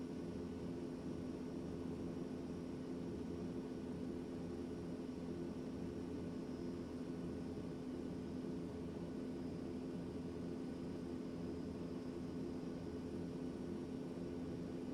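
A steady airplane engine drone hums throughout in a flight simulator, an even, unbroken mid-level whir with faint tonal whine and no voices.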